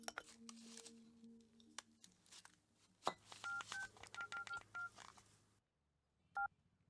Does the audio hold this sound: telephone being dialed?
yes